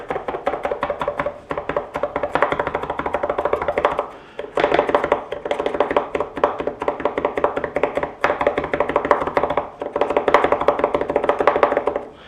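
A kitchen knife chops food on a cutting board in a fast, steady run of close, loud taps. The rhythm breaks off for a moment twice before it resumes. No talking.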